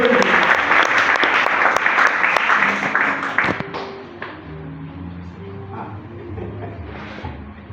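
A church congregation applauds and cheers during a Pentecostal-style service, loud dense clapping for about four seconds that then thins out into scattered claps, voices and a low musical hum.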